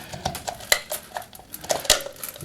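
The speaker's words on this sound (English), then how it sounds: "And click it down into place." Plastic lid of a Hyundai HY4 bump head on a string trimmer being lined up and pressed into place, giving several sharp plastic clicks and knocks at irregular intervals, close and fairly quiet, with two louder snaps among them.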